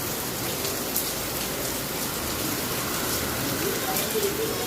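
The first rain of the season pours down in Mumbai, a steady, close, hissing downpour spattering on surfaces without pause, with faint voices in the background.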